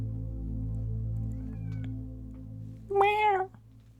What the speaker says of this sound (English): I hear my cat wanting in, so I'm going to let him in.